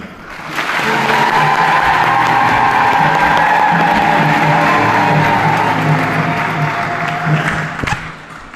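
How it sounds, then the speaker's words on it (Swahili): A church congregation at an Easter service breaks into sustained clapping mixed with high, trilling ululation, a dense, loud, continuous wash of crowd sound that swells in and holds for several seconds before fading. "naomba tusimbanie Mungu makofi na vigelegele vya shukrani"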